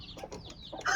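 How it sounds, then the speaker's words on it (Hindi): A hen clucking close by in a sheltered coop, a quick run of short soft clucks rising into a sharper call at the end. "ये एक और मुर्गी बैठी हुई है"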